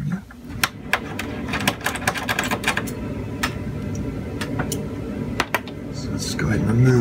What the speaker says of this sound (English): whenever you take a heatsink off like this, or tighten it, you should uh, do it diagonally as I'm doing here